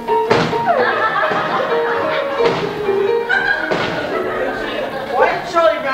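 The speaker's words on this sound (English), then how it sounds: "Why did Charlie Brown bang his head against that tree?" Dull thuds of Charlie Brown banging his head against a tree, several heavy knocks spaced a second or so apart, heard over chatter, laughter and music from a stage show.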